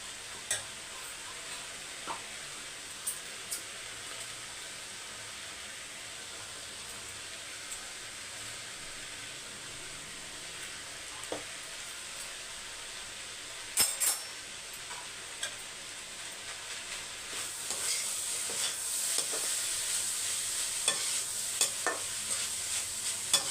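Cluster bean poriyal stirred in a pan just after salt goes in, a spatula scraping and tapping steadily over a soft sizzle that swells louder near the end.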